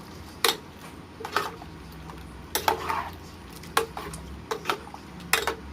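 Bottle gourd curry being stirred and mixed in a pot, heard as intermittent metallic clanks and scrapes of a spoon against the vessel, about eight close knocks over a quiet background with no talk.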